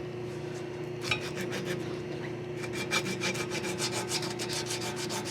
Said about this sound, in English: we sand it